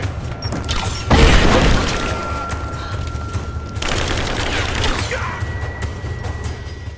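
Gunfire in the video game Rise of the Tomb Raider, set in a collapsing mine: a sustained loud barrage of shots and crashing impacts, heaviest around the second mark, continuing as a dense roar with mechanical clatter.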